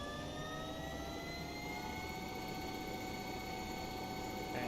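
Bell JetRanger helicopter turbine spooling up during a glitching engine start in the X-Plane 12 flight simulator, a steady high whine with rising tones over a low droning rumble, constant and fairly loud.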